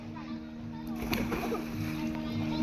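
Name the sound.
splash of someone jumping into water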